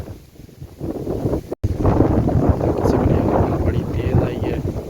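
Strong stormy wind during heavy rain buffets the microphone in loud, rumbling gusts, broken by one sharp dropout, with a voice faintly mixed underneath.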